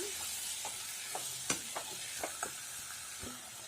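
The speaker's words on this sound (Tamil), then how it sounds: "இதை சேர்த்து நல்லா வதக்கிட்டுருங்க" Drumstick leaves and boiled cowpeas sautéed in a pan for murungai keerai karamani, with a soft steady sizzle beneath a series of distinct spoon scrapes and taps against the pan.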